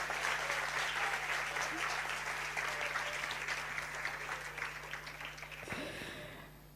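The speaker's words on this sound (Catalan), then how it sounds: "un aplaudiment per ells" Steady, dense applause fills an award ceremony hall for a science outreach competition, a continuous wash of many hands clapping that thins and stops abruptly near the end, with a low hum beneath.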